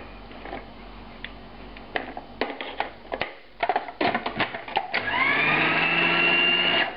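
A food processor grinds a meatball mixture seasoned with salt and MSG, starting with chopping clatter and irregular bursts before settling into a loud, steady high-pitched whirring motor drone near the mic.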